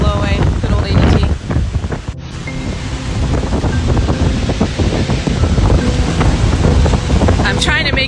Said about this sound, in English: The wind is so powerful